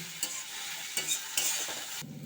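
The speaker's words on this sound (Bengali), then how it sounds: "দিয়ে এবার এটাকে আমি ভালো করে মিক্স করে নেব।" Mixed vegetables sizzle steadily in a hot pan while a utensil stirs them, scraping and clinking a few times against the metal.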